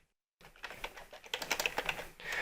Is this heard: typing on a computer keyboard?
yes